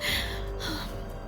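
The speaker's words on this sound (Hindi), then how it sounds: "घबराहट से हांफने लगी।" A woman pants in panic, with quick, ragged, breathy gasps close up and no talking.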